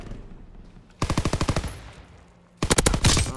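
Two rapid bursts of automatic gunfire in a first-person shooter, each a tight run of about ten loud, evenly spaced shots, separated by a short lull of quiet game ambience.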